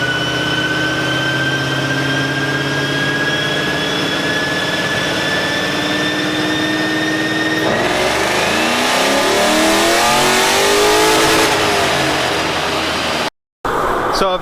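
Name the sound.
Ford Mustang engine revving during dyno pull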